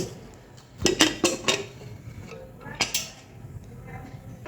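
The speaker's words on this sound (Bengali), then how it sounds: "প্রেশার কুকারের ঢাকনাটা খুলে দিচ্ছি" A pressure cooker lid being opened after about an hour of cooking beef trotters (paya/nehari): a few sharp metallic clanks and clinks close by, then a short rattle, with quiet kitchen background.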